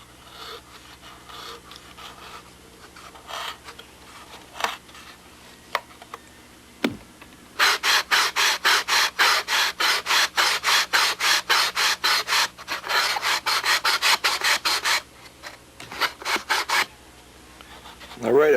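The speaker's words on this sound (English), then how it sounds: "Now I'll just take a big rough cut here and then do the rest of it with a sanding block." Hand-working a model aircraft cowling block for a Spitfire build: a rough cut followed by steady, rhythmic rasping strokes of a sanding block, close and loud in fast repeated bursts with short pauses.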